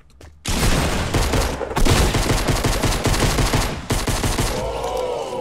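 Rapid, loud Fortnite gunfire rattles almost without pause for about five seconds, a dense burst of shots close up, easing into a quieter tail at the end.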